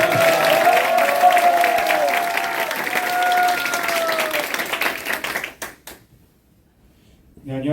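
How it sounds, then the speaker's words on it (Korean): Loud applause from a crowd at a political party youth committee launch and appointment ceremony, steady clapping that fades out after about five seconds, leaving near silence before a voice begins. "큰 박수 부탁드립니다."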